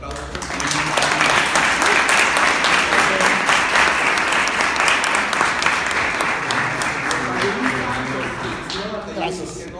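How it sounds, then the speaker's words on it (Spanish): Loud, sustained audience applause after a music-journalism panel at a festival, a dense wall of clapping that swells quickly and holds, easing slightly toward the end, with voices faintly underneath. "Un aplauso."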